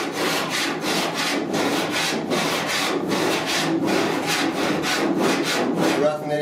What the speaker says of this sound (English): I'm just running a cheese grater across it.